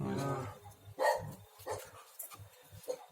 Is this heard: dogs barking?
yes